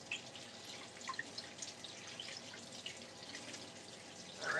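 A kitchen tap runs steadily at a sink, a soft continuous hiss of flowing water with faint drips and splashes, growing a little louder at the end.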